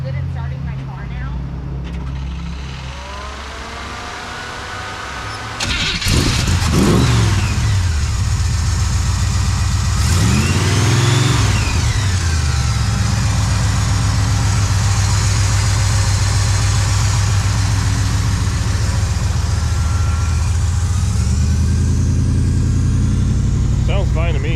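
After a short pause, a hot rod car whose owner suspects a muffler fault and a clicking noise cranks and fires up, gives a couple of loud revs, then settles into a heavy, rumbling idle close by.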